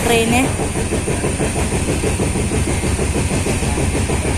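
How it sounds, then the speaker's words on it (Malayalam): A passenger train rolls on after leaving Kottayam on a run from Changanassery to Ottapalam, with a loud, steady rhythmic clatter of wheels on rails and a brief tonal sound at the very start. "ട്രെയിനിപ്പോൾ കോട്ടയം വിട്ടു"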